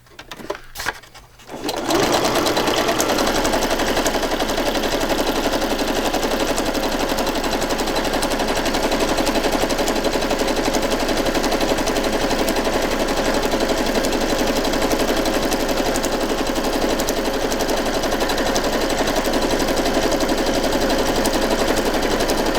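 A sewing machine stitches through a journal page, starting after a brief pause and then running in one fast, steady, loud mechanical rattle that continues to the end without interruption or voices.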